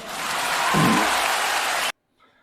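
Applause sound effect plays in an Entry coding game, a dense burst of clapping lasting about two seconds before cutting off abruptly, followed by a faint trailing bit.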